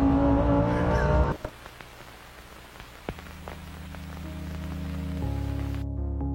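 A Lamborghini Huracán STO sports car roars loudly at first, then drops to a quieter rumble with crackles and pops, followed by steady engine tones climbing in pitch as it revs again.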